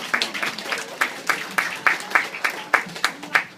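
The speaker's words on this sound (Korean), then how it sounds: "여러분들 박수." Congregation at a church service claps in rhythmic unison, about a dozen sharp, evenly spaced claps over a few seconds, moderately loud and close.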